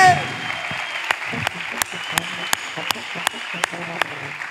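Clapping during an emotional surprise celebration, with sharp, evenly spaced claps ringing out in a steady rhythm over a murmur of talking and background noise.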